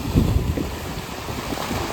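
Wind buffets the microphone in a constant, loud roar on the Ratnagiri coast near a jetty, with sea waves washing underneath and no talk.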